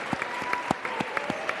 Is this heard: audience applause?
yes